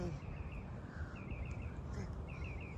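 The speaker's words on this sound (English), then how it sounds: "I hear the birds chirping." Birds chirping during a morning walk near palm trees, faint repeated high tweets in short bursts over a rumbling outdoor background of footsteps and handling noise.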